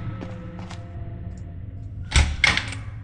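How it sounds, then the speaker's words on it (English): A bathroom door is locked in the horror game Scary Child: a couple of faint taps, then two sharp, close metallic clacks of the latch in quick succession. "And lock the bathroom door."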